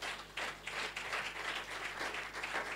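A church congregation applauds steadily with dense, continuous clapping that swells in waves, moderately loud and filling the room, with no talk over it.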